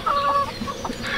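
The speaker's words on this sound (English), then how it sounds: "There you go, chickens." Chickens in a backyard coop with a shade house cluck close by, a few short overlapping clucks and soft calls in a quick burst.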